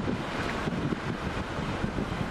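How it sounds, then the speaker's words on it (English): Strong gusting wind of around 50 miles an hour buffets the microphone during a tornado chase in Happy, Texas, a loud, continuous rumbling roar with irregular surges and no voices. "You get 50 mile an hour winds."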